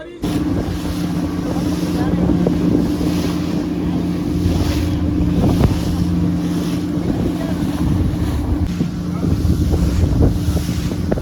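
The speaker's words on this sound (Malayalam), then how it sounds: "ഓരോന്നായിട്ട് എഞ്ചിനൊക്കെ സ്റ്റാർട്ട് ചെയ്തൊക്കെ നോക്കുന്നു" A fishing boat's engine runs out at sea with a steady, loud droning hum that continues throughout, mixed with wind buffeting and the wash of water.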